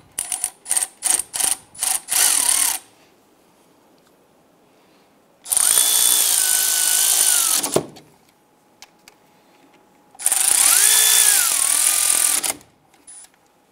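An impact power tool drives brake caliper bolts on a 2008-2013 Nissan Rogue, first in several quick rattling bursts, then in two longer whirring runs with rising pitch, loud and close, with quiet gaps between.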